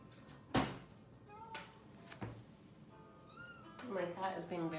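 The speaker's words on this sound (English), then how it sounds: "My cat is being very vocal" A house cat meows several times indoors, short rising and falling cries scattered between quieter moments, with a longer string of meows near the end and a soft knock or two in the background.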